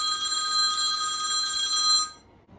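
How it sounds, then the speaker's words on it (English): An old telephone bell rings in a continuous metallic trill for about two seconds, then cuts off abruptly, leaving near silence. "Or, that telephone ringing."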